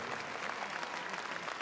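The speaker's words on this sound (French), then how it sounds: "On peut les applaudir très très fort s'il vous plaît" An audience applauds after a judo club demonstration at a martial arts evening in Meudon, with a faint, dense, even wash of many hands clapping throughout.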